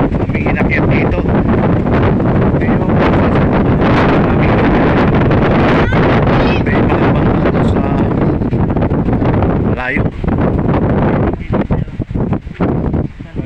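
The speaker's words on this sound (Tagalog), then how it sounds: "Wow, sarap ang hangin dito." Strong gusting wind on a high mountain overlook in Dingalan, Aurora, Philippines roars and buffets the microphone loudly and almost continuously, with no speech heard.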